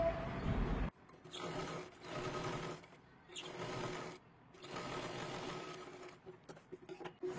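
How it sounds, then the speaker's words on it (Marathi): A sewing machine stitches a katori blouse in bursts of rapid mechanical whirring, several runs separated by short pauses, close and fairly loud. "आपल्याला सुरुवातीला खालच्या बाजूला व्यवस्थित शिलाई मारून घ्यायची आहे"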